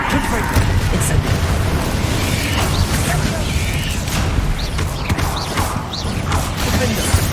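Fire spell cast in the video game Hogwarts Legacy amid continuous combat noise, with dense rumbling blasts and crackling effects running without pause, loud throughout, and a voice calling out over the action.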